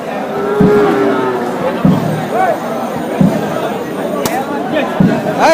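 Cattle moo repeatedly at a crowded livestock market before Eid sacrifice, several drawn-out calls rising over a steady babble of buyers and sellers talking nearby.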